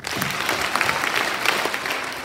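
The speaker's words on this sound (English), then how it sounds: "Give yourselves five claps." An audience claps together at a Black History Month program, a dense burst of applause from a crowd lasting a couple of seconds, close and fairly loud.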